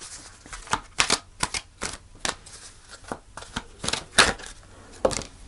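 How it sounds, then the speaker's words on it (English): Tarot cards riffled and shuffled by hand in a series of sharp, papery bursts with short gaps, close and fairly quiet, no talking. "So I'm going to pull a final card."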